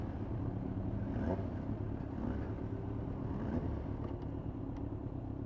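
A Kawasaki Z1 motorcycle engine gives a low, continuous rumble throughout, steady and fairly subdued, with no one talking over it.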